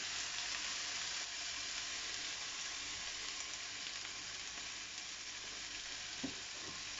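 Steak frying in a pan with rosemary, a dense, steady sizzle that stays close and fairly loud throughout, with a couple of faint knocks near the end and no talk.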